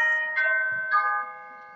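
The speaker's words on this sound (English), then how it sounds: "sorry about the doorbell." A doorbell rings with two clear chime tones in quick succession, bright ringing notes that decay into silence, fairly close and alone.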